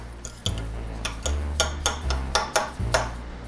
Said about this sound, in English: I'm just going to slowly stir them into the butter